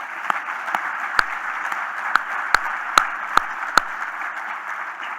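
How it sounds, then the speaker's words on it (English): Audience applause for award recipients at a United Way annual meeting, a steady background of many hands clapping with several sharp, distinct close claps standing out at irregular intervals. "Let's give all of our award recipients one more round of applause."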